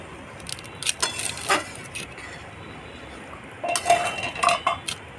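A metal lid lifted off a pot of Bengali shukto dal cooked with bitter gourd and drumstick, giving a few clinks and clatters at the start, then a second burst of scraping and rattling metal.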